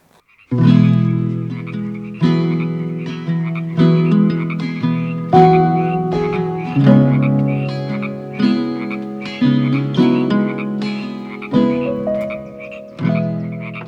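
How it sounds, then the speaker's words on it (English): Frogs croak loudly at night in a repeating chorus, deep rhythmic calls pulsing every second or so with no other sounds. "Just listen to the sound of all of the frogs going off."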